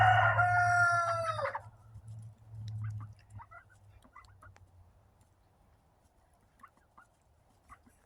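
A rooster crows once, loud and close, in a backyard chicken run, the call ending abruptly; afterward a low hum from running water and faint scattered clucks and bird chirps continue quietly.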